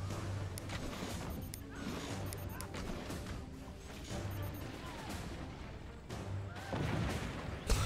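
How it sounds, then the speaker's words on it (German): Repeated blasts and crashing impacts from a fort-battle strategy game, a dense run of explosions and artillery-like booms rolling on steadily with louder bursts near the end. "Es explodiert einfach alles."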